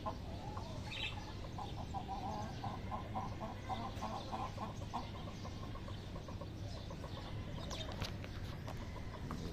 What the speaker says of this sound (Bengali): আমার ফাইটার মেল আর এই যে ফাইটার ফিমেল কোয়েল